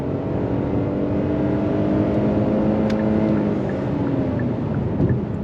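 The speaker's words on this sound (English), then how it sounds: "On throttle, here we go." A 2023 Hyundai Palisade SUV accelerates onto a highway, its engine rising in a steady, loud hum with road and wind noise filling the cabin for several seconds, no voices.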